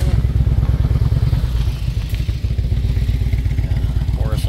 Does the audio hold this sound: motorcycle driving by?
yes